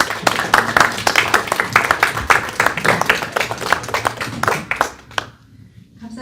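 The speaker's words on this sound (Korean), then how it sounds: "우리 교수님 나오실 때 큰 박수로 환영해 주시면 감사하겠습니다" Audience at a lecture hall event claps loudly to welcome a professor to the podium, a dense burst of close, sharp handclaps that thins out and stops near the end.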